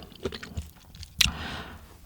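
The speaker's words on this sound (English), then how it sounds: "I love how crunchy the carrots are in my mouth." Crunchy carrots in jollof rice are chewed close up, with soft, irregular bites and one sharp, crisp crunch partway through, then quieter mouth sounds.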